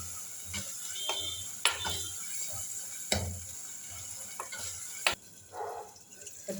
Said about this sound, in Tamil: தக்காளி கொஞ்சம் நல்லா வதங்கி வருது.